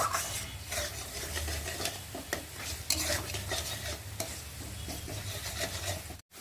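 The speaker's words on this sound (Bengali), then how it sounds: "দিয়ে এবার ভালো করে নেড়ে নেব" Maggi noodles' masala spice stirred in a pan over heat, a steady scraping and sizzling close up that runs without a break, ending abruptly.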